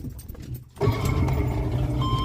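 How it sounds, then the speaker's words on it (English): Boat outboard motor started with the key: a quiet stretch, then the engine catches at once and settles into a steady, loud running drone close by. "Just crank the key"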